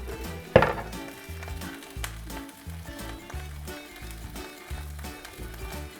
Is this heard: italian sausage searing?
yes